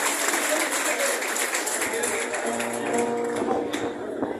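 An audience applauds a band at a live concert, with sustained, steady clapping and some music and voices blended underneath.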